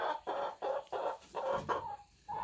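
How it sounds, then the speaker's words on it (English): A hen nesting in straw clucks close by in a run of six or seven short, evenly spaced calls, then one last drawn-out note. No one speaks. "Chickens are cool."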